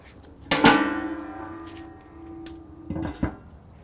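Beef short ribs hung on a rack inside a pit barrel cooker, giving two metallic clanks about two and a half seconds apart. The first ring fades slowly, and the scene is quiet in between.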